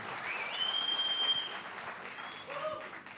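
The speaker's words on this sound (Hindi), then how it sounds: "जोरदार तालियां। अद्भुत।" An audience at a direct selling panel event breaks into sustained applause, a dense wash of clapping lasting a few seconds at moderate level.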